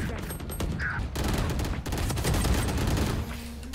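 Rapid gunfire from a Valorant match, dense overlapping shots and bursts filling the whole stretch, loud and close, with a brief electronic tone near the start and a low hum toward the end.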